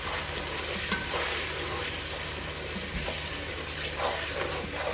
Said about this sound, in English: And then I'm going to give it a stir before I add my curry